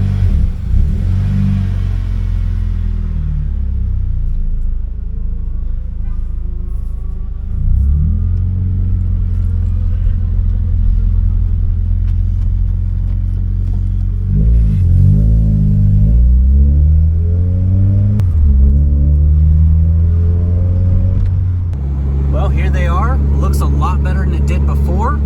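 Honda Civic driven on the road, its engine rumbling steadily close up from inside with a few rises as it accelerates and shifts, and a person talking over it for much of the time.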